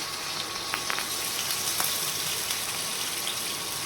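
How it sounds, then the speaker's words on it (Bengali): Hilsa fish pieces go into hot oil and crackle with a broad, steady sizzle, a few sharp spits popping through the hiss over a few seconds, with no speech. "তেলটা তো গরম হয়ে গেছে, মাছটা দিয়ে দিলাম।"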